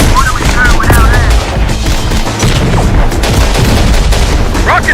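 Heavy gunfire rages in Terminator Dark Fate Defiance, dense overlapping rifle and machine-gun bursts with booming impacts, close and loud throughout, while brief radio-style voice callouts cut in over the battle.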